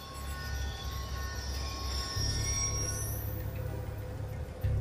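Train passing in the video game Call of Duty Black Ops 2, a steady rumble of rolling railcars with squealing wheels and a rising high whine, close and continuous.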